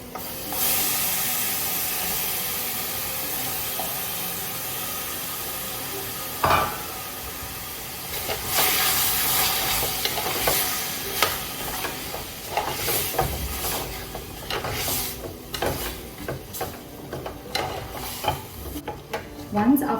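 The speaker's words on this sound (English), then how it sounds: "Now to this I'm going to add the meat pieces." Mutton pieces hit a hot pot with a sharp hissing sizzle, then frying crackles on while a spoon stirs with repeated scrapes and clatters, close and fairly loud, with no voices.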